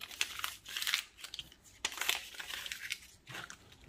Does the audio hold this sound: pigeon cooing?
no